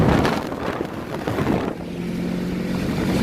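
A 1988 Volkswagen Scirocco engine pulls hard in third gear on a small highway, a steady loud drone with wind rush that settles into a sustained hum, with no talk over it.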